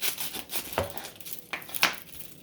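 A knife slices through an onion on a board, giving a few soft, close crunching cuts and light clicks spaced unevenly over a quiet kitchen background.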